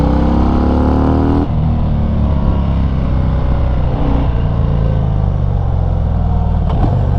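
A 2019 Harley-Davidson FXDR 114 motorcycle on a road ride, its loud engine drone rising through the revs, a gear change, then steady hard acceleration, with constant wind rush throughout.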